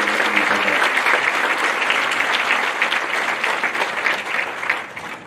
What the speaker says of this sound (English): Let's give another round of applause for the fine students that came up here